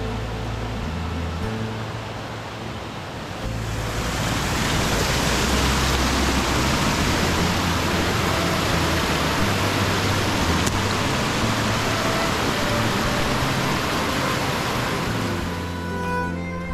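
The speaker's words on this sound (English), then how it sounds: "So this is Merry Brook, a white, frothing, singing brook" A white, frothing rainforest brook rushes steadily and loudly throughout, a dense, unbroken wash of tumbling water close by with no voices.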